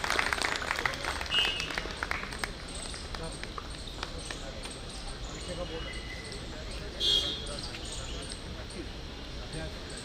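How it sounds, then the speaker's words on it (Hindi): Thin, sparse applause from a chilly audience at an engineers' association New Year celebration, a soft continuous patter of scattered hands running throughout without building to a strong ovation. "तालियां कम सुनाई दे रही हैं।"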